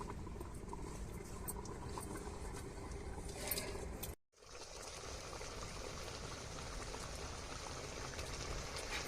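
A pot of curry boils down, its water reducing as the oil separates, giving a steady, dense bubbling that drops out briefly midway before resuming.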